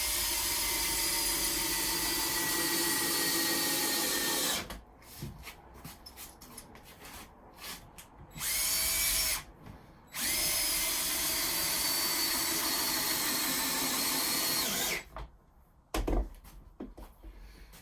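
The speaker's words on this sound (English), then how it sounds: "I'm just shoving a couple of these screws in." Power drill driving screws into wood while building a lean-to high seat, several loud sustained whirring runs separated by quiet pauses and short bursts, close by with no talk.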